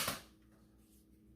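A single sharp pop from an X-Shot micro blaster launching a waffle-head dart, upgraded with a GenCo kit and its air restrictor and dart post removed, with a quiet low hum trailing after the shot.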